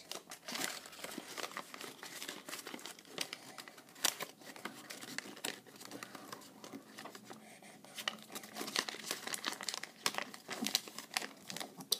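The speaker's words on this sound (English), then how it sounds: "Just fold these in and flatten it." Paper is folded and flattened for an origami owl, producing a continuous run of crisp crinkles, creases and sharp rustles up close, fairly quiet and with no talk.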